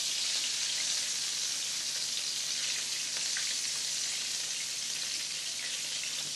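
Homemade meatballs sizzling in a hot frying pan, a steady, even crackle of frying fat that runs the whole time, fairly close and with no talking.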